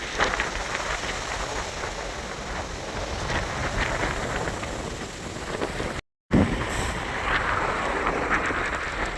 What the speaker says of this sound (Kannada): ಗಾಳಿ ಅಂದ್ರೆ ಸಖತ್ ಗಾಳಿ ಇಲ್ಲಿ